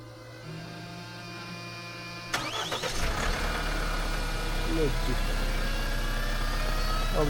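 A diesel vehicle fitted with an engine heater is cranked in −30°C cold. Steady electrical hum gives way to a sudden crank, then a low engine rumble that settles into an even idle.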